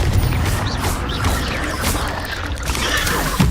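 Confringo explosive spell cast in a Harry Potter video game, a dense booming burst of magical impact noise with crashing, rushing texture, loud and continuous through the clip.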